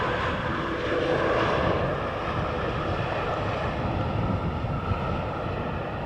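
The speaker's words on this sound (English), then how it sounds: "And here is another one of those Embraers that I mentioned earlier." Embraer jet on approach to land at Schiphol Airport's center runway, a steady loud engine roar and rumble holding evenly throughout with no voices.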